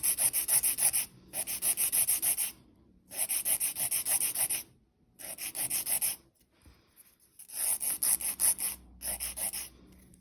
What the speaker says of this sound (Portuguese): o primeiro passo que nós vamos começar é lixar a ponta